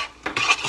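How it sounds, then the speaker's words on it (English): A flour and oil roux is stirred in a pan with a utensil, giving short scraping, clinking strokes of metal against the pan, close and fairly loud, with no voices. "So I'm going to keep on stirring it until it gets dark."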